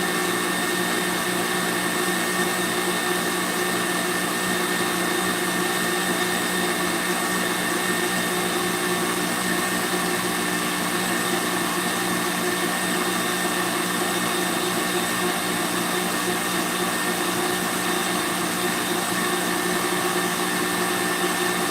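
Electric mixer whisking macaron meringue made with egg white powder and sugar, a loud steady motor whir with constant high hum, continuous and unbroken throughout with no talking.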